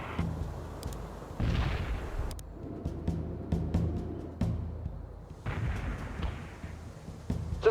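Artillery strike in World in Conflict, Soviet campaign against insurgents: loud, close booming impacts and rumbling blasts recur across the clip, with sharp cracks between them and no voices.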